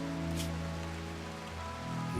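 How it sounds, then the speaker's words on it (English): Rain falls in the RimWorld video game, a steady, soft hiss of downpour lasting the whole moment, with a low ambient music drone underneath. "We weathered some really gross weather. We've got a lot of rain."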